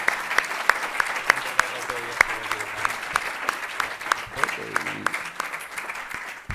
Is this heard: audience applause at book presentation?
yes